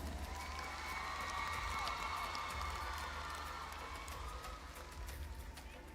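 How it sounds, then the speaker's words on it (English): Audience applause for Miss Solomon Islands at the Miss Pacific Islands pageant, a broad, steady crowd clapping with some cheering mixed in, heard at a distance over a low rumble and fading slightly toward the end. "Another round of applause for Miss Solomon Islands."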